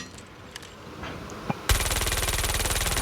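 Rapid machine pistol fire in a video game, a sharp sustained automatic burst of evenly spaced shots starting abruptly after a quiet stretch with a few faint clicks.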